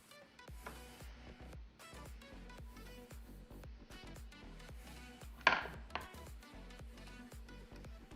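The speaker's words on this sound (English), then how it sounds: "Ooh, wooden chopping board." A knife chops food on a wooden chopping board while burgers are made at home, a steady run of soft, close taps with one louder clatter midway, and no talking.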